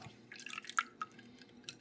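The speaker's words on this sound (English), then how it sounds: "We're gonna strain it into here to get the buttermilk out" Buttermilk from homemade butter drips while being strained, giving a few soft, separate drops that land close and quietly over a faint background.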